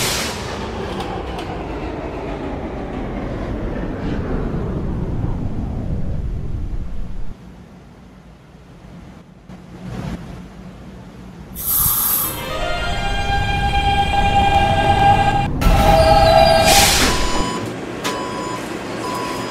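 An R160B subway car on the D train runs along the track, its motor whine falling away as it slows, then rising again with bright electronic tones and rumbling as it gets moving.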